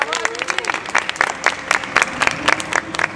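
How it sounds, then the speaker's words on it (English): Audience applause for performers at a live comedy improv show, a crowd clapping in quick bursts with some voices mixed in over a short stretch. "Let's have a round of applause for them."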